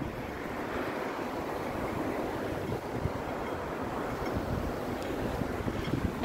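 Constant wind rushes and buffets the microphone outdoors, a dense low roar with occasional gusts and no talking.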